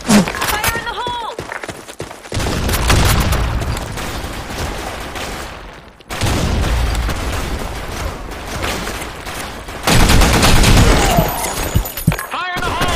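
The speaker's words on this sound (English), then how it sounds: "Fire in the hole! Grenade!" Grenade blasts and gunfire ring out in the Sand Storm II map of a first-person shooter, with loud bursts of rapid shots and booms in three dense stretches separated by brief lulls, with voices in the mix.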